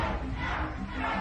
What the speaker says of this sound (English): Douglas watches as the crowd gets increasingly unruly